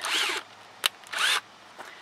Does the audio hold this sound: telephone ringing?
no